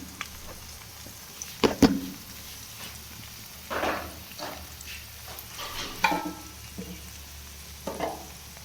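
Ginger-garlic paste and ground spices, chilli powder among them, sauté in a hot pan with a soft sizzle, broken by several distinct scraping strokes of a spatula as the mixture is stirred.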